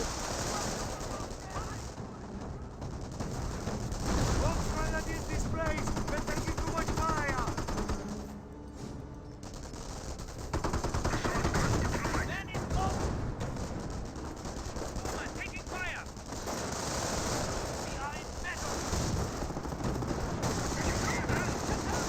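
Machine-gun and rifle fire crackle through a Company of Heroes battle between Wehrmacht and US forces, with dense bursts continuing across the whole stretch, a brief lull midway, and a commentator talking over the fighting.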